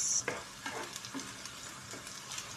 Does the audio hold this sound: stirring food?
yes